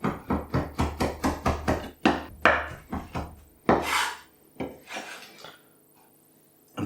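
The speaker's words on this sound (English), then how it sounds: "And finally we'll chop the coriander." A knife chops fresh coriander on a board in quick, even strokes, crisp and close, then slows to a few scattered cuts before stopping, for a pico de gallo salad.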